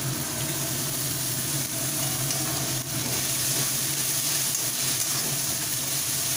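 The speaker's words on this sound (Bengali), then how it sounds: "মশলাটাকে একটু ভালোভাবে কষে নিতে দিচ্ছি।" Spice masala with tomato pieces frying in a pan for crab curry, a dense continuous sizzle heard close and loud throughout, with faint stirring underneath and no talk.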